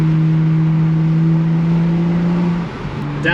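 BMW 435i M-Sport fitted with an Akrapovic exhaust revs loudly and close by with a steady droning tone, then the note drops sharply as it downshifts near the end.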